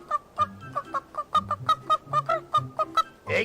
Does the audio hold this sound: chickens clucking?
yes